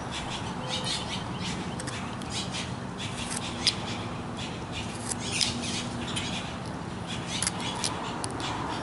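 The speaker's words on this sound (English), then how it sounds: "the birds are really making noise today for some reason" Birds squawk and call repeatedly over a steady, noisy outdoor background, with a few sharper calls standing out.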